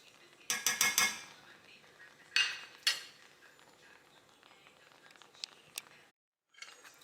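Metal utensil stirring a pot of nearly boiling strawberry jam: a quick burst of clattering taps against the pot, then a couple of separate clinks and faint scrapes over quiet background.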